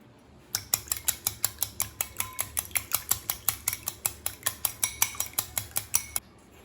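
Two eggs with salt are beaten in a bowl, the utensil striking the sides in a fast, steady run of about two dozen crisp clinks, close and clear, before stopping abruptly.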